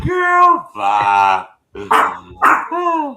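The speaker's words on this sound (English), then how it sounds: "That's my dog barking, y'all." A pet dog barks several times in quick, loud bursts close by, mixed in with a person talking over it.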